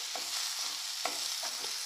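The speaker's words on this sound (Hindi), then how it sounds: "इस स्टेज पर इसमें ऐड करेंगे लंबी कटी हुई हरी मिर्ची और इसे 2 मिनट तक और भून लेंगे" Onions and long-cut green chillies fry together in a pan with a continuous close sizzle, broken by a few soft spatula stirring strokes.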